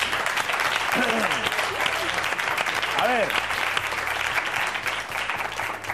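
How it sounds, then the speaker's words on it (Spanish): Audience applause on a comedy show, continuous dense clapping throughout while someone talks over it in Spanish. "Un aplauso, por favor."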